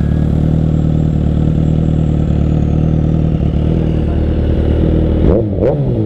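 A Suzuki GSX-S 1000 motorcycle fitted with a Two Brothers exhaust runs steadily at close range, a loud continuous engine note with a brief burst of revving near the end.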